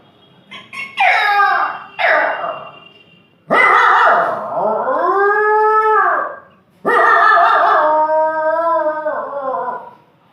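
A man mimics dogs howling and yelping: two short yelps, then two long, loud, wavering howls separated by brief pauses, performed up close without other talk.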